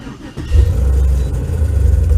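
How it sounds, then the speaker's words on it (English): A car engine cranks and catches, then settles into a loud, close, steady rumbling idle with slight pulsing. "Let's start the car and drive it around."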